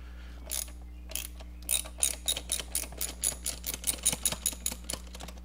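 A hand ratchet loosening valve cover bolts on a GM LS6 V8 engine, with a run of quick, rhythmic clicking strokes over a steady background hum.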